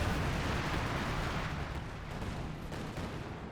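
A light artillery barrage pounds the field in Company of Heroes 2, a loud rumbling roll of overlapping explosions that begins strong and slowly eases off, with no voices.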